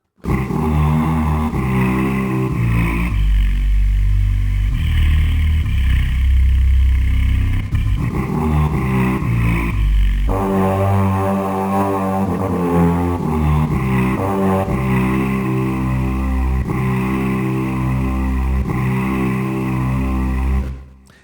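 Warm, sustained sample-based synthesizer pad chords from Output Exhale swell and shift slowly, a thick layered tone playing continuously with no voices.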